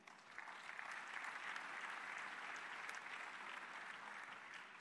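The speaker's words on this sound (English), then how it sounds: "I think we should give a round of applause to Rwanda." A conference audience applauds in a dense, even wash of clapping that holds steady for about five seconds, fairly distant and soft in level, with no speech over it.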